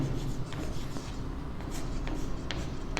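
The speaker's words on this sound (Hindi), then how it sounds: "सॉल्यूशन में मैं लिखता हूँ यूजिंग" A pen scratches steadily across paper while a maths solution is written out, in soft continuous strokes with small taps and shuffles, close and fairly quiet.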